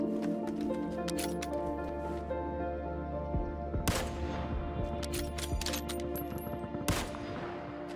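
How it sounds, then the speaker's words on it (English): Gunshots in PUBG, a few sharp, loud cracks spaced a few seconds apart over a steady background hum, one firing close by. "I just need to shoot this guy in the head"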